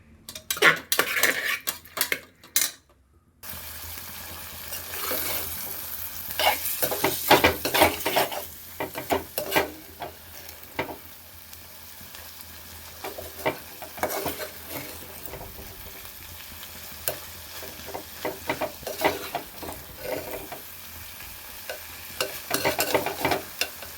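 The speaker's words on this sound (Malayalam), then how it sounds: "ചിക്കൻ വറുത്തുകൊണ്ടിരിക്കുകയാണ്" Chicken fries in a pan on a home stove, a steady sizzle interrupted by repeated metal spatula scrapes and clinks against the pan, fairly close, with a sharp burst of stirring at the start.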